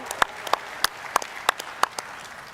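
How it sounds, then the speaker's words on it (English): A small audience at a crypto conference gives scattered applause, a handful of distinct sharp claps spaced out over a couple of seconds rather than a full ovation. "please welcome them with a big round of applause"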